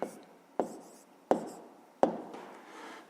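Pen strokes on paper as an equation answer is written by hand for a fifth-grade maths exercise: four short, separate scratching marks at an even pace, close and fairly quiet, with no talking.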